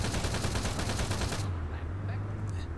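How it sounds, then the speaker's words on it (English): A tank's machine gun fires in the ARMA 3 video game, a rapid close burst that stops after about a second and a half, leaving engine rumble underneath. "The tank machine gunner is taking care of them."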